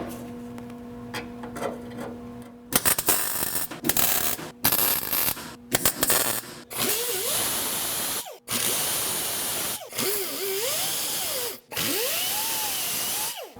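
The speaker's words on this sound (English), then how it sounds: "Lots of grinding." Angle grinder working a rusty car interior floor panel during rust repair, a loud continuous abrasive whine broken by short stops and restarts, with pitch sweeping as the disc bites into the sheet metal.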